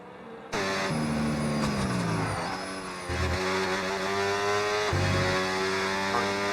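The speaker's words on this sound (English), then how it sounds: "you can hear the full TC working when you go on board through the slow speed sections" An F1 car in a racing video game runs through slow corners with traction control working, its engine note buzzing and stuttering loudly while the pitch rises and drops with gear changes.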